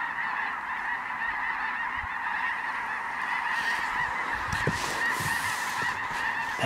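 A huge flock of snow geese in North Dakota honks continuously, a dense layered chorus of many birds near and far that stays steady and loud throughout, with no voices.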